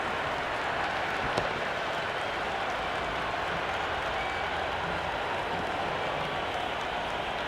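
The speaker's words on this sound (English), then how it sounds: "the excitement emanating from this crowd at the moment" A cricket stadium crowd in the video game Tower of Cricket sends up a steady, dense wash of applause and cheering that holds at an even, loud level for several seconds, with no voices standing out.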